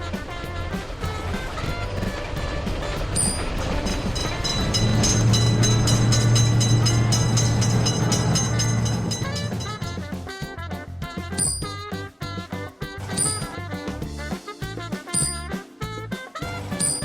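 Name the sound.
train passing a road level crossing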